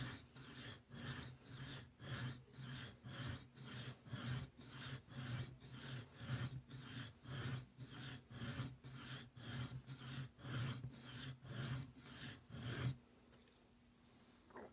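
Knife stroked back and forth on a coarse, aggressive whetstone, a steady run of about two dozen evenly spaced rasping scrapes at close range, then quiet once the strokes stop.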